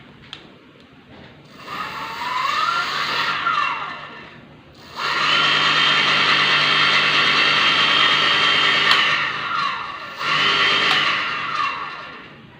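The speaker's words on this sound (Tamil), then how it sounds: "எவ்வளோ ஸ்லோவாக வந்து மோட்ரு வந்து ரன் ஆகுது பாருங்கள்." An electric bike conversion kit motor runs on throttle, whirring up in high-pitched bursts that hold steady, fade and spin up again, with no voices.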